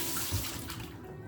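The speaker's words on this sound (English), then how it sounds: "I'll let it overrun like this because it'll help push all the soap out until it's just water coming out." Tap water runs steadily through a drinking horn into a sink, rinsing out soap, a close, continuous rushing flow with no voices.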